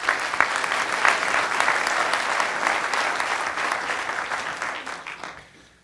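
An audience at a keynote panel applauds to welcome four guests, a dense, steady wash of clapping from a sizable crowd that holds strong and then tapers off near the end.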